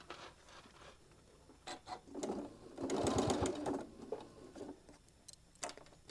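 A sewing machine stitches over the seams of a small travel case for a mini iron, with short stop-start bursts and one sustained rapid run in the middle, fairly close and moderately loud.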